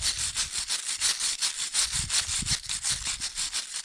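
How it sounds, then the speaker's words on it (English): Brush scraping drying lime putty pointing between the stones of an old Portuguese barn wall, a close, rhythmic series of gritty strokes, about two per second, steady and unaccompanied by voices. "when I scrape this with the brush"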